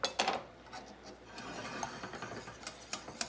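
A spoon stirs chocolate pie filling with egg yolks in a bowl, giving soft scraping and clinking taps of metal against the dish in an irregular rhythm, close and fairly quiet.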